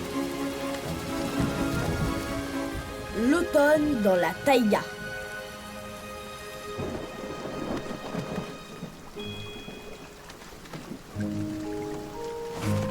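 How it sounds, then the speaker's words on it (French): Steady rainfall with rumbling thunder, heard under voices, shouting and background music. "Oh non, il pleut."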